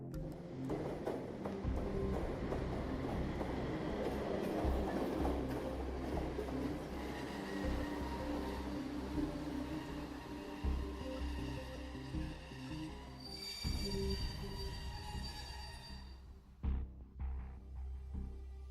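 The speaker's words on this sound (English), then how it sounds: "Accompanied by a piercing noise, the train slowly decelerated and finally came to a stop right in front of us." A video game train rolls loudly with a dense rumble and wheel clatter. Near the end it slows with a piercing high squeal and comes to a stop, then settles into quieter hiss.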